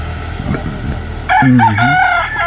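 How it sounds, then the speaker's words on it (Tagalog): A rooster crows loudly and close by, one drawn-out call following some quieter clucking and background noise. "namimiss ko yung mga manok natin dito."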